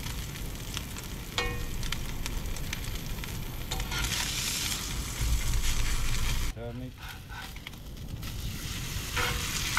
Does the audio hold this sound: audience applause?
no